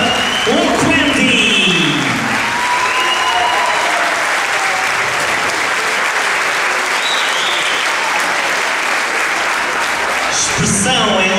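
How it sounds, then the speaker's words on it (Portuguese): An audience applauding at a Portuguese-language event, loud, sustained, even applause from a large crowd, with a voice speaking briefly at the start and again at the end. "Uma salva de palmas para o Quenty."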